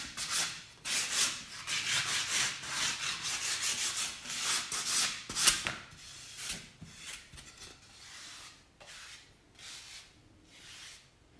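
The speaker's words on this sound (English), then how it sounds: "give it a light sand" Light hand sanding of a stained wood frame for a mosquito screen, with rhythmic back-and-forth rubbing strokes close up, brisk at first and then slower and softer.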